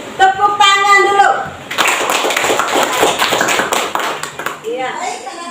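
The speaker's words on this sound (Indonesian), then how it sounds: "Tepuk tangan dulu" Children in a classroom clap their hands together for a few seconds of quick, fairly loud rhythmic clapping, with a teacher's voice before and young voices chiming in after.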